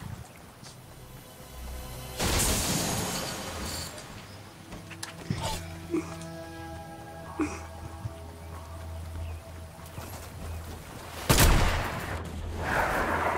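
Video game gunfire aimed at bots comes in several loud broadband bursts and sharp reports spread across the stretch, with quieter clicks and game ambience between them and no speech.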